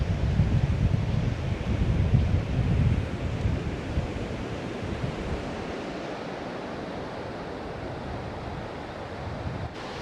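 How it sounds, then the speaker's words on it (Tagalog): Strong wind on a beach at Capul Island, Philippines, roars and buffets the microphone in a steady rush of noise, heaviest at first, with a faint wash of surf beneath it. "Ang lakas ng hangin dito din."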